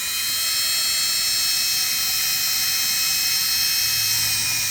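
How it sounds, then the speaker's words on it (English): A power drill runs steadily, driving through pre-drilled holes in a model submarine hull: a continuous high-pitched whine with a bright hiss, constant in loudness and close by, with no voices. "we're going to zip it in with the drill"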